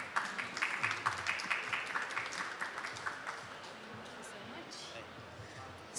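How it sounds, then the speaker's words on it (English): An audience at a COP27 decarbonisation day session claps for a speaker, the applause dense and close at first, then thinning and fading out over several seconds. "Please help me give her a big applause"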